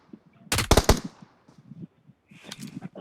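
P90 gunfire in a video game, a loud close burst of rapid automatic shots followed by quieter scattered distant gunfire and faint game sounds.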